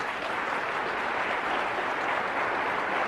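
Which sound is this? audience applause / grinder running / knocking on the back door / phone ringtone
audience applause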